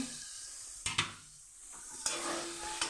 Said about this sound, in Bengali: তো চলুন এটাকেও আমি নাড়িয়ে চাড়িয়ে দিই আমার মূলো শাক শিম দিয়ে ভাজা পুরো রেডি